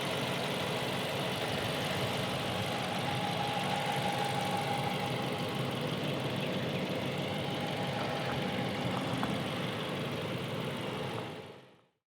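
A 2018 Dodge Charger Pursuit's 5.7 liter V8 runs at a steady idle, a continuous close engine drone with a faint whine, holding even for about eleven seconds before cutting off abruptly.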